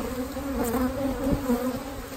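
A swarm of honey bees packed inside a swarm trap with comb, honey and brood, a dense, steady droning hum close to the microphone.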